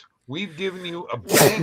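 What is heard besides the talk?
sneeze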